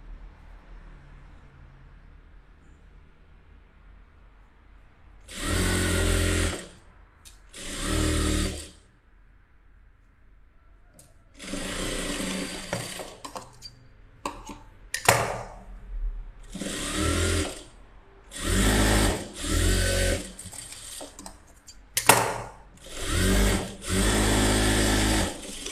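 A sewing machine stitching fabric in repeated bursts of steady mechanical whirring, each lasting a second or two with short quiet pauses between, close and fairly loud.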